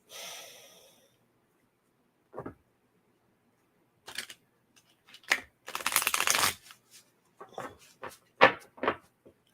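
Cards are shuffled in short, crisp bursts of riffling and flicking, separated by quiet pauses, close and fairly faint.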